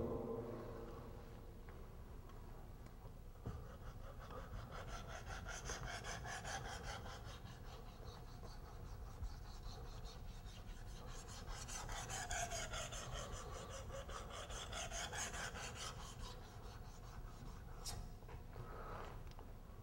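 A kitchen knife blade is drawn back and forth across a water stone, producing faint repeated rasping strokes in a steady rhythm for about twenty seconds, with no talking.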